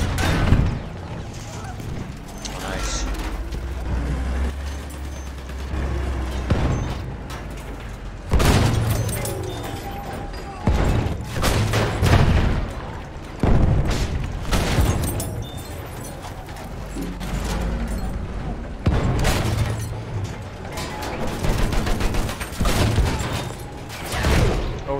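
Enemy machine gun fire in Battlefield 1: dense bursts of rattling gunfire and heavy booms pounding throughout a loud battlefield soundscape, with a voice calling out over the din.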